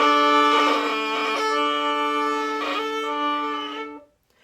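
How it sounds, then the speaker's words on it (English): Violin bow drawn across two open strings at once, a loud, sustained, rich double-stop tone lasting about four seconds before cutting off abruptly, alone. "That sound is me playing two strings at the same time."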